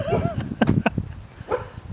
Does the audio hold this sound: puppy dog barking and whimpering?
yes